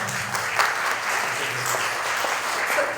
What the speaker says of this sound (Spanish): Fuertes palmas para él